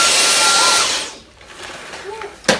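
A refurbished Dyson DC44 Animal cordless vacuum runs with a loud, high-pitched whining motor scream, dipping briefly before rising again and ending in a sharp burst.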